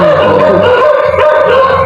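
A pack of village dogs keeps up a loud, dense chorus of barking and yelping nearby, with no pauses or voices.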